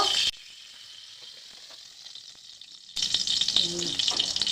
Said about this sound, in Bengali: এখন তেলটা ঢেলে দেবো